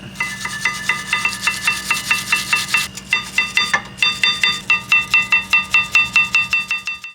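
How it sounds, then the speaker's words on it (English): A wire brush scrubs a brake caliper bracket on a 2007 Toyota Highlander Hybrid in fast, rhythmic back-and-forth strokes, a harsh, loud metallic rasp repeating about three times a second, close and alone. "make sure to use the wire brush to clean this out real good"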